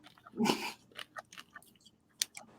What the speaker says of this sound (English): Oh, what a yawn.